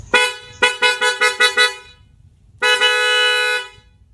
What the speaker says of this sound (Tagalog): Solid tumunog yung busina mga sir kahit hindi pa buhay yung makina.